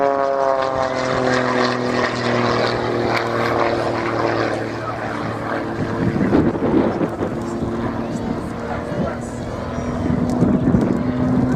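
A propeller aerobatic plane flies rolls and flick rolls at an airshow, its engine a steady loud drone with shifting tones throughout, swelling and fading as it passes and climbs.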